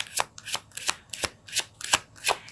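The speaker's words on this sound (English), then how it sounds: "So let's pull a card for" Tarot cards shuffled close by, a steady series of about seven crisp riffling bursts at a regular pace, fairly loud and alone without talking.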